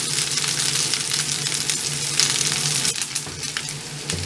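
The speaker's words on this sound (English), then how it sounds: "I'm going to leave the noodles to fry and brown on the other side." A mass of noodles pan-frying undisturbed, browning in oil with a dense, steady close sizzle that softens slightly toward the end, no talking.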